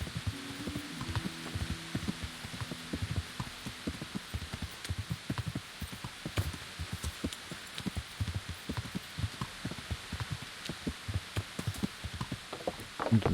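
Rain falls steadily on a hard surface outdoors in the street, a dense patter of close drops and sharper taps, with a low hum in the first few seconds.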